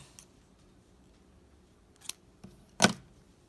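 Scissors snipping off crochet yarn, a few quick, quiet cuts close by, the last and loudest near the end, in a hushed room with no talking.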